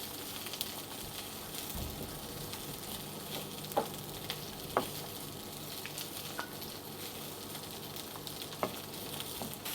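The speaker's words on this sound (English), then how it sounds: "So we'll mix that through with our curry paste." Peanut butter made from blitzed peanuts is stirred into curry paste in a pan for a Thai beef massaman curry, giving a steady low sizzle with a few soft scraping clicks, close and quiet throughout.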